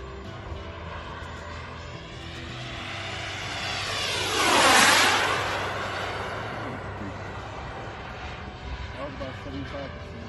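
A Harlock Viper model jet powered by a Kingtech K60 turbine flies past: a steady turbine whine swells as it nears, peaks in a close, loud pass, then falls in pitch as it pulls away.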